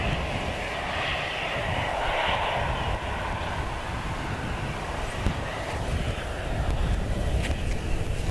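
The incoming Marrakesh flight sounds a steady distant jet engine roar at Manchester Airport, broad and sustained, mixed with gusty wind buffeting the microphone.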